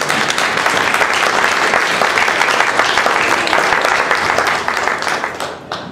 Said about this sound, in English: You deserve a tremendous round of applause, Wayne.